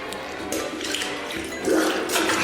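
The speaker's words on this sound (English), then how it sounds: "You hear the water splashing everywhere." Steady rushing and splashing water from a flooded urinal fills the space, a continuous close wash that surges louder toward the end, with no voices.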